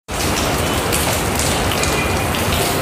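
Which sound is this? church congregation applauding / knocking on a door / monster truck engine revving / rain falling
rain falling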